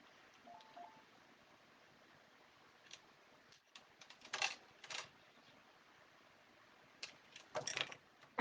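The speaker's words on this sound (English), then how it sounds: "I think we need to trim our bow just a tad." Scissors trimming a ribbon bow at a crafting table, faint quiet background broken by a few short, crisp snips and rustles clustered in bursts, close up, no talking.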